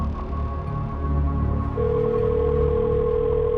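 A steady electronic tone sounds over a low hum, then shifts to a higher continuous pitch partway through, like a phone line ringing through a speaker.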